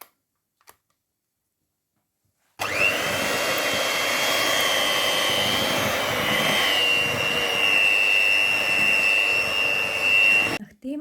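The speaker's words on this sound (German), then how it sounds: "Damit es schneller geht, nehme ich den Mixer." After a few near-silent seconds, a handheld electric mixer whirs loudly and steadily through bread dough with leek filling for about eight seconds, its pitch wavering slightly, then cuts off abruptly.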